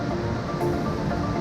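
The Skykomish River rushes beside Washington's Mountain Loop Highway, a loud, close, unbroken wash of moving water with no voices over it.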